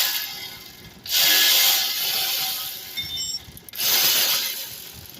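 A ratchet wrench clicks in two bursts of rapid metallic ratcheting while loosening brake caliper bolts on a 2011-2023 Dodge Charger, close and loud, separated by a short quieter pause.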